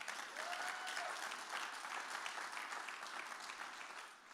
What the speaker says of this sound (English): I want to hear a real big round of applause for that